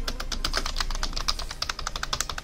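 Quick typing on a rubber dome computer keyboard, close and clear: a dense run of soft, evenly spaced keystrokes with no talking.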